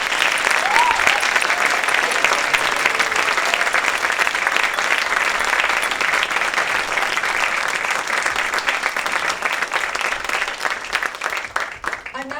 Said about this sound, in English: Can we just have a huge, huge, huge round of applause for the filmmakers?